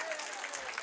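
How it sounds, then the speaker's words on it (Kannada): A crowd at a sugarcane farmers' protest breaks into brief, dense applause, a dense wash of clapping heard a little distant. "ದೇವತೆಗಳಿಗೆ ಜೋರಾಗಿ ಚಪ್ಪಾಳೆ"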